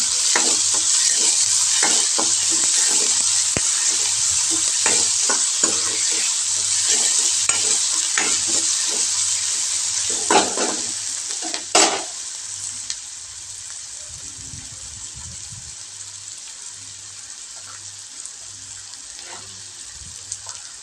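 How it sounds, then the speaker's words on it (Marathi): Finely chopped onion frying in a pan for potato bhaji gives a dense, even sizzle with frequent stirring scrapes and clinks; midway the frying softens and running tap water briefly joins before the sizzle settles, close and alone. "तर इथे कांदा मी आता तळून घेते छान."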